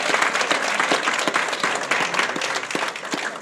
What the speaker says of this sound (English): that deserves a round of applause in and of itself